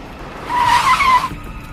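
A car in a film brakes hard and stops just short of a man in a wheelchair, its tires giving a loud screech for close to a second before the sound cuts off.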